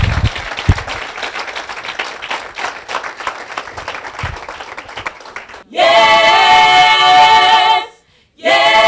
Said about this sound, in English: give Shina a big hand of applause